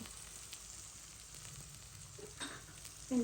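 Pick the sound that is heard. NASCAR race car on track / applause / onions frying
onions frying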